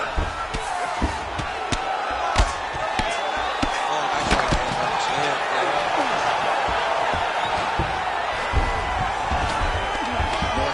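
Heavy ground strikes landing in an MMA fight as a crowd reacts, with repeated sharp thuds over a roaring arena murmur and occasional shouts, under continuous commentary.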